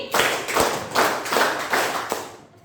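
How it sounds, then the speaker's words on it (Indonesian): A group claps in unison five times at an even, moderate pace, each loud collective clap ringing briefly before the next. "Tepuk 5 kali."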